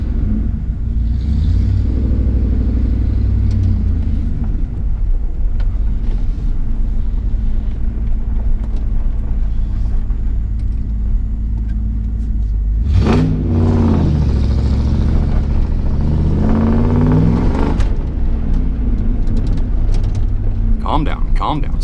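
A John Deere X724 lawn tractor driving into a shop, its engine rumbling steadily and loudly up close, with a rise in revs partway through and wind buffeting the microphone.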